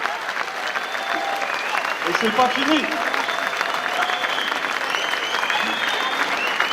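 A crowd at a gala event applauds steadily and loudly for several seconds, with someone speaking over the clapping and scattered cheers.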